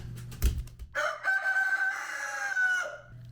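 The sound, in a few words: chickens and rooster crowing in coop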